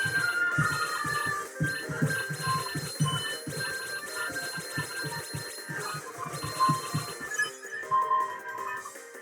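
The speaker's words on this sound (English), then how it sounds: "The bells ring in justice." Bells ringing in the Deltarune video game, a dense layered chiming of many tones with rapid rhythmic strikes over a low pulsing bed, loud and continuous, thinning toward the end.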